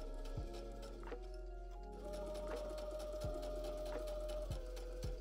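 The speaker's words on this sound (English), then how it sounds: "And let's get back into sewing." A sewing machine stitches a corset dress, running in short bursts with a rhythmic mechanical whir and clicking, close and fairly quiet, with brief pauses between runs.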